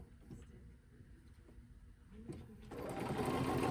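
A sewing machine stitches a petal shape in ruler-work quilting, a faint steady whir that speeds up into a louder continuous buzz toward the end.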